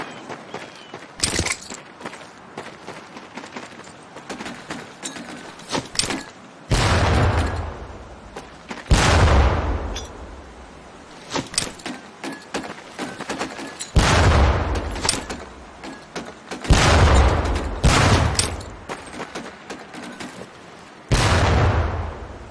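Training grenades thrown at barrels in Medal of Honor Pacific Assault go off as a run of about eight heavy booming blasts at irregular intervals, with quieter rustling and footsteps between them.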